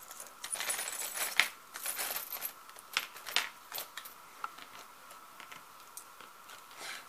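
Small metal charms and trinkets from a China-shop haul clink and rustle as they are dropped back into a plastic bag, a quiet series of irregular jingles and taps up close with no talking.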